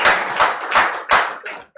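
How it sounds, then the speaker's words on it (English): Applause from the audience at a report launch on frontline health facilities in Nigeria, a short round of clapping that swells in several bursts and stays loud and close throughout. "I believe we can have another round of applause for her"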